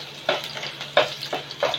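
Garlic cloves and curry leaves frying in a pan for a Kokani egg curry, with a soft continuous sizzle and four distinct scraping stirs at steady intervals, close and moderately loud, with no talking.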